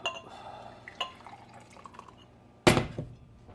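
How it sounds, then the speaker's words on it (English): Herbal tea poured slowly from a pitcher lands as a single strong splash of liquid near the end, after a few faint drips and small clinks in a quiet room. "I'll pour it real slow."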